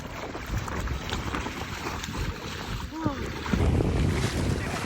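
A rented boat out on the sea off Port Dickson beach in Malaysia, with strong wind buffeting the microphone over a continuous rush of water and hull noise, growing slightly louder toward the end.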